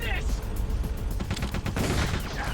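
Gunshots fired at a guard in the video game Metal Gear Solid Twin Snakes, a dense run of close, sharp shots over a busy in-game background.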